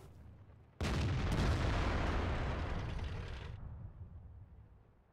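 An artillery gun fires a single shot in World of Tanks: one loud, close blast that swells into a roaring, rumbling tail, fading out over about three seconds with no voices.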